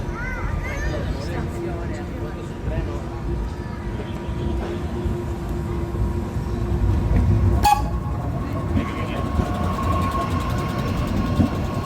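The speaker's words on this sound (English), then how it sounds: "Train right into the station." A train rumbles and rattles into a station on Mallorca's Sóller line, growing slightly louder, with a sharp metallic clank partway through and voices murmuring nearby.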